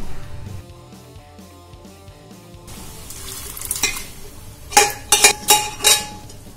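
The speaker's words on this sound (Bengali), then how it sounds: "এবার সেদ্ধ করে রাখা ছোলার ডালগুলো এর মধ্যে দিয়ে দেব।" Boiled chana dal tipped into a pan of cooked-down spices for Bengali cholar dal, stirred with clinks and scrapes of utensil on pan, then several sharp loud metal knocks near the end, no talk.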